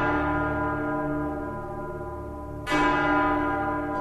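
Church bells of Myeongdong Cathedral ring out in a broadcast recording: sustained, resonant tolling with a fresh strike near the end, loud and alone with no talk.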